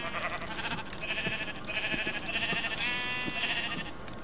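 Sheep bleating in a Minecraft mod game, several short bleats repeating at a steady pace over a constant background hum, with faint clicks mixed in.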